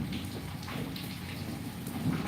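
Steady unseasonal summer rain falls continuously in Lilapur, a soft, even hiss with faint patters, moderately quiet.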